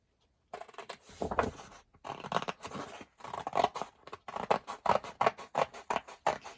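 Heavy cardstock being trimmed for a handmade journal: a run of crisp, close cutting strokes that speed into rapid rhythmic snips toward the end, with no voices.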